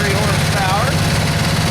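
A 23 horsepower V-twin engine on a Skag Commander Pro mower idles with a steady low rumble, loud and close, with a faint voice mixed into the drone.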